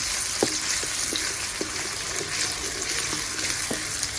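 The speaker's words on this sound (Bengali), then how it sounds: "পেঁয়াজ ভালো করে বেরেস্তা করে নেবো।" Sliced onions fry in hot oil with dried chilli and bay leaf for a dal tempering, giving a dense, close, unbroken sizzle dotted with faint crackles and ticks throughout.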